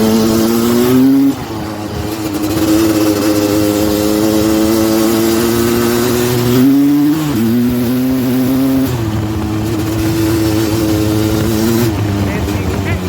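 Suzuki LT250R ATV engine revving hard during a wheelie on a trail, a loud close drone rising and dipping in pitch, with a voice talking over it.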